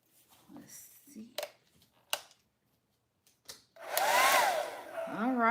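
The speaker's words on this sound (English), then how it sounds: "let me plug up my blow dryer" A handheld blow dryer switches on and runs loud and steady near the microphone on freshly washed hair, following a few soft handling clicks and taps before it starts.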